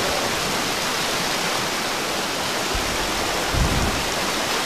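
Loud, steady rushing of water in the fantasy video game Gothic II, like a waterfall or fast stream, filling the whole scene as a constant broadband roar with a brief low thump near the end.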